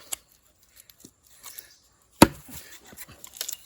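Cassava stems cut with a blade outdoors: a few soft chops and snips, then one sharp loud crack near the middle, followed by scattered lighter cuts and rustling.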